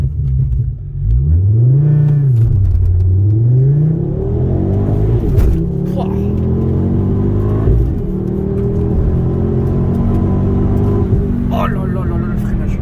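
A Ford Focus RS five-cylinder engine with a stainless steel exhaust line revs and accelerates, its pitch rising and falling through gears with a loud, close, throaty drone while someone talks over it.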